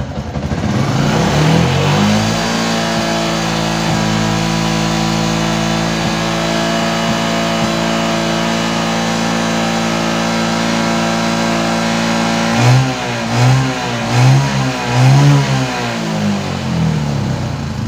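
Yamaha Jupiter MX motorcycle with a modified full-wave charging setup, engine running at a loud steady pitch that swells with a sustained rev, then several rhythmic throttle blips near the end.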